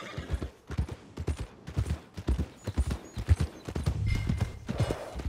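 Horse hooves clop in a rhythmic series of close, distinct beats in Red Dead Redemption 2, with a neigh rising near the end as the stride continues.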